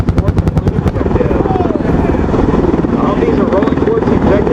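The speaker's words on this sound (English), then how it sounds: "See a section of AH-1 grazing run." A pair of AH-1 Cobra attack helicopters on a strafing run at a Marine Corps airshow, their rotors thudding in a fast loud chop that swells into a constant heavy roar, with an announcer talking over it.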